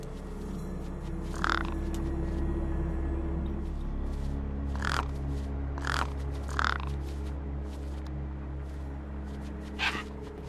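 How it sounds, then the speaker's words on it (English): Crows caw at their feast in a video game, several separate harsh caws spaced across the stretch, some doubled, heard over a steady low hum and ambient drone. "No way I was going to get between those birds and their feast."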